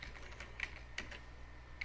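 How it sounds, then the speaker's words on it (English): Keystrokes on a computer keyboard typed with one hand, a sparse, irregular run of light clicks at close range over a low steady hum, with no voices. "I'm sorry, I'm typing using one hand."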